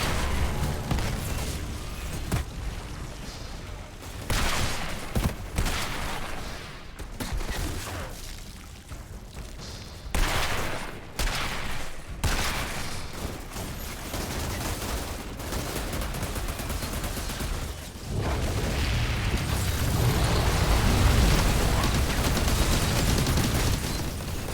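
Gunfire and explosions in the Outriders video game demo, a busy multiplayer firefight with bursts of shots and heavy booms, loud and continuous with deep rumbling impacts toward the end.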